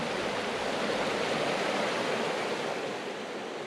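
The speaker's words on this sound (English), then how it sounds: "On the side of the rushing river" Rushing river water flows beside a hot spring in Iceland's Westfjords, a dense, steady roar heard up close with no pauses.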